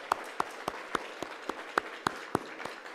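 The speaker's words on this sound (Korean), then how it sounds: "우리 순서 맡은 분들에게 박수 한번 쳐드리죠." Church congregation at a missionary commissioning service clapping in a steady rhythm, about three to four crisp, evenly spaced claps per second standing out over a soft bed of background clapping and room noise.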